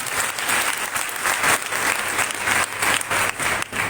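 An audience at a college event applauds with a loud, dense, continuous patter of clapping that holds steady throughout.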